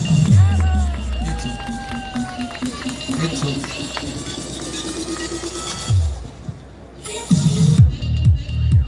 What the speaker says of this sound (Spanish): Ahí están los aplausos